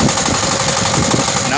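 A two-wheel tractor pulling a sugarcane-style reaper with front disc coulters idles steadily on a farm. The engine's continuous mid-pitched rumble runs beneath a voice.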